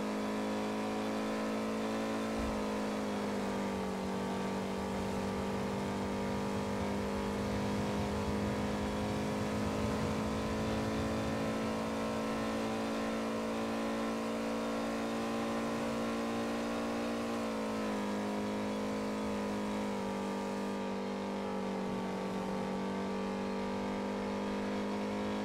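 A car in the NoPixel GTA roleplay game holds a long, steady engine drone at cruising speed, with slight rises in revs.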